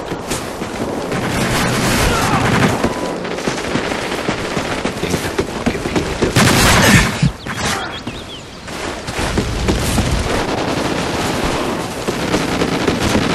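Gunfire rattles in a shooter video game, with rapid, dense bursts of shots running almost continuously and loud throughout, briefly easing near the middle before resuming.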